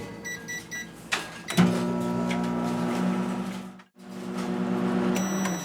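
A microwave oven hums steadily while lemon curd cooks inside, a soft, even drone with a few beeps and clicks at the start and a brief break near the end before the hum resumes.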